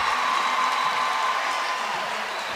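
A Michigan State arena crowd applauds a college women's gymnastics routine with steady, dense clapping and cheering that holds at an even level throughout, while a commentator talks over it.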